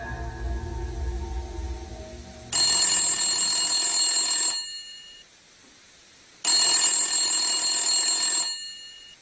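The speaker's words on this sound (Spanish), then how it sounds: "suena el teléfono en el humilde apartamento" An old telephone bell rings in a humble apartment in the early hours, two long bright rings of about two seconds each separated by silence, loud and close, preceded by low ambient rumble.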